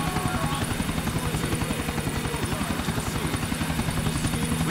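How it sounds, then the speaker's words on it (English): Helicopter in the video game GTA 4, a steady close rotor chop with dense rhythmic low thumping and broad engine hiss running continuously throughout without any talk. "Shut down that chopper for you."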